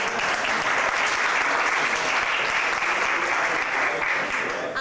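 Sustained audience applause fills a legislative hearing room, steady and dense from start to finish with no voices breaking through.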